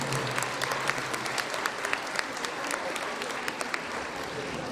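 An audience at an annual folk concert by the KUD Ilinden cultural society in Demir Hisar applauds the orchestra, a dense and steady wash of many hands clapping throughout.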